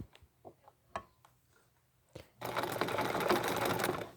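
An electric sewing machine stitches a coiled rope bowl wrapped in sari silk ribbon, starting with a few sparse clicks and thumps before breaking into a loud, steady, rapid run of stitching up close.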